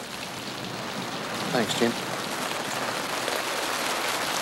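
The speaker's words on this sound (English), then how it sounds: "Starting to rain." Rain begins falling outdoors, a steady soft hiss of drops on surfaces, with a man's brief speech over it.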